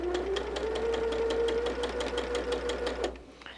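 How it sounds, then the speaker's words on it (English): Sewing machine chain stitching pieces of quilt-block fabric, a close, fast and steady mechanical whir with rapid needle clatter that winds down near the end. "you can chain stitch those and it makes it really quick"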